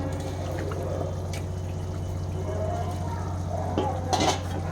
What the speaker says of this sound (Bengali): এবার আমি চিকেনটা অ্যাড করছি